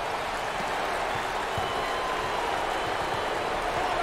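A crowd at a 2021 NCAA tournament basketball game between Akron and Radford applauds a player, sustained clapping and crowd noise throughout, with a commentator talking over it.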